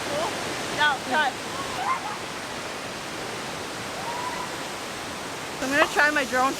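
Cascade Falls in Mission, BC roars as a steady, dense wash of falling water, with people talking over it near the start and again near the end.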